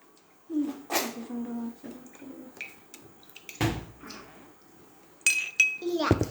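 A spoon stirring a glass of Tang orange drink, with bright clinks and scraping taps against the glass at uneven intervals, close by, with stretches of near quiet between.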